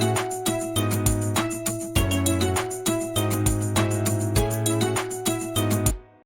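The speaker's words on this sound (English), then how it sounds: "So I went onto Looperman and found this strum." Strummed guitar loop from a sample library, steady rhythmic chords with regular accents, loud and alone, stopping abruptly near the end.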